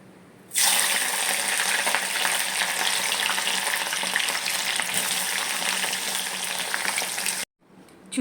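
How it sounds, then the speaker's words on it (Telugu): Pieces of ivy gourd deep frying in hot oil: a loud, close, continuous crackling sizzle that starts abruptly, holds steady for several seconds and then cuts off. "దొండకాయల్ని ఈ రకంగా వేపేసుకున్నాను నూనెలో"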